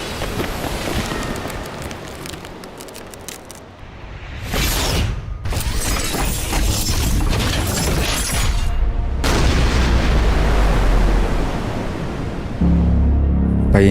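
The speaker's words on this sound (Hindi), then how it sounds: "भाई मेका गोडजिला ने आते ही गोडजिला अर्थ के ऊपर मिसाइल से हमला कर दिया है।" Missiles from Mechagodzilla slam into Godzilla Earth in an anime monster battle, a loud, dense roar of blasts and crackling debris that surges in waves with brief drops between bursts.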